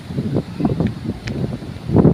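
Gusty wind at the seaside during high tide, near coconut trees, buffets the microphone in uneven bursts, rising loudest near the end, with no clear voices.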